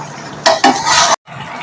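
A spoon scrapes and stirs sweetened bottle gourd curry (lau ghonto) in a pan. A few close, loud scraping strokes come with a faint sizzle, then a brief pause before quieter stirring resumes.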